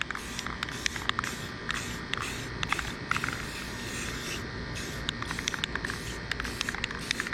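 Clear coat sprayed onto a car from a spray gun, a continuous hissing spray broken by short rhythmic bursts and pauses as passes are made, close and fairly loud.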